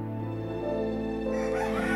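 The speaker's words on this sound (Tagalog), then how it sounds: "Mga manok ito." Rooster crowing among chickens in a rural Philippine village, a drawn-out crow over steady background with other fowl nearby.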